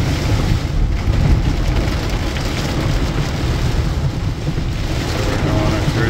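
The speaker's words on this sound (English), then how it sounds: "We normally don't get that kind of heavy rain." Heavy torrential rain pours in Boca Raton, Florida, a dense, continuous hiss and rumble that stays loud and steady throughout, with wind-like buffeting in the background.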